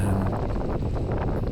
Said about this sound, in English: It's a bit windy there.